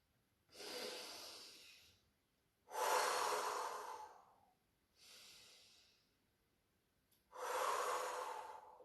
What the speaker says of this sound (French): Par la bouche. Expire encore une fois.